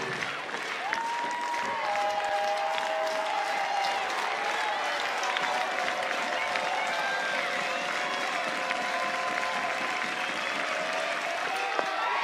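A stadium crowd at a 2022 NCAA college softball game between Alabama and Kentucky keeps up steady applause and cheering on a two-strike count, a broad, continuous roar with a commentator's voice faintly mixed in.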